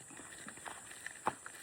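A white horse walks past, its hooves giving a few faint, irregular clip-clops at a distance, with one sharper knock standing out.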